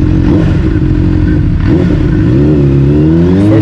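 A Honda CBR600RR 600cc super sports motorcycle engine runs loud and close, holding a steady throb before revving up with a rising whine near the end.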